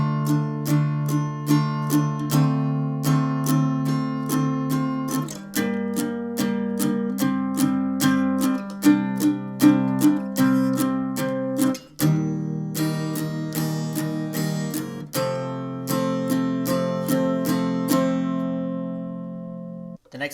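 Guitar plays a song at a slower tempo, with strummed and picked chords ringing in a steady rhythmic progression, close and clear with no talking.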